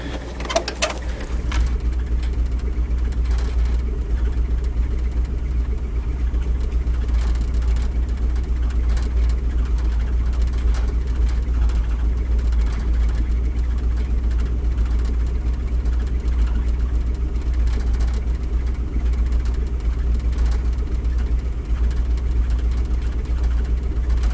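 A 1959 Mercury Monterey engine that had sat unused for a decade idles steadily with a constant low rumble, close and loud, after a brief clatter at the start.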